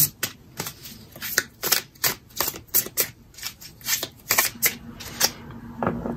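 Tarot cards shuffled by hand in quick riffling bursts, a rapid run of crisp close flicks and slaps with brief pauses between, no talking.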